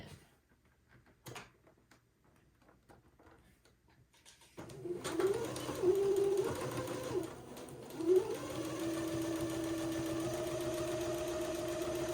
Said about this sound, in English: I'm going to sew a 1/4 inch seam along the bottom of this other leg